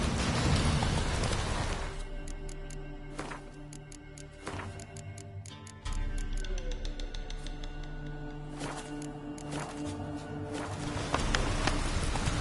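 Geralt's horse Roach galloping in The Witcher 3 on PS4 Pro, a fast rhythmic run of hoofbeats, close and loud, over a steady patter like rain, with a brief pause in the stride midway.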